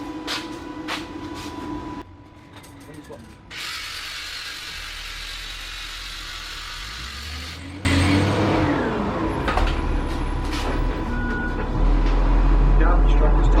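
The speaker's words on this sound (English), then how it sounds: "Garbage truck this time of day." A garbage truck passes outside, its low engine rumble and mechanical whine building toward the end, heard amid abrupt cuts, workshop sounds and someone talking.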